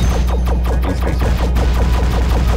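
Rapid bursts of gunfire from a spirit gun in the Kitten Squad video game, a loud, dense rattle of repeated shots running continuously through the whole stretch with no talk.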